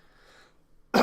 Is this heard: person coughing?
yes